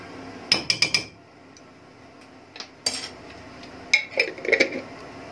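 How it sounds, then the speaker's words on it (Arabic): A metal spoon clinks and taps against a cooking pot while ghee is added for cooking meat, in a few sharp bursts of clattering metallic knocks separated by short pauses, close and alone. "هجيب حله عندي احط فيها معلقه سمنه"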